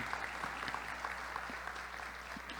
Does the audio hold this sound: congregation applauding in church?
yes